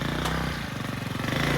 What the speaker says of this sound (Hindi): हमारे यहाँ से मोटरसाइकिल गुजर गई